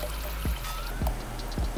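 Water and cooking cream are poured into a pot in a home kitchen, a steady liquid stream with a few small drips, close and fairly loud.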